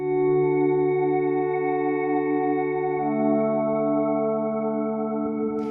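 Sustained synthesizer chords with a smooth, pure tone, one held chord shifting to another midway, steady and unaccompanied.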